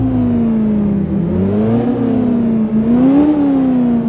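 Simulated 1980s VW Golf II GTI with a 1.8-litre engine idling and revving in City Car Driving, a steady loud engine drone rising and falling in pitch in a few slow swells, no talk.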